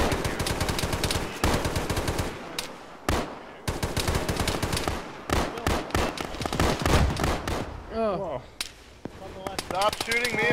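Rapid automatic gunfire rattles in long loud bursts during a firefight in the Arma video game, with gaps between volleys and players shouting over the shooting.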